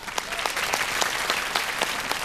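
An audience claps for a singer on a bolero singing show: steady, dense applause that is loud and close and runs throughout, with no one talking over it.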